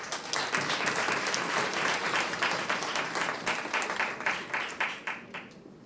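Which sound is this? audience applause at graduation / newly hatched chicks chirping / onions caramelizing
audience applause at graduation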